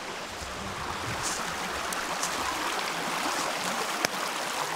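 Water rushes steadily in a broad, even hiss, like a brook running over rocks, continuous and fairly close with no voices.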